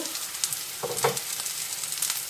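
Chopped tomato hits softened onions frying in a pan, the steady sizzle briefly flaring into a louder hiss and crackle before settling back, close and alone.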